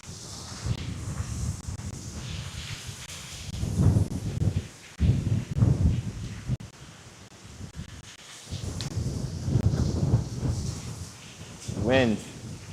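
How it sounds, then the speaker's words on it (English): Strong wind buffets the microphone outdoors at a fishing spot, with loud, gusty rumbling and roaring that surges and drops in waves. A person talks under it. "This wind's too much."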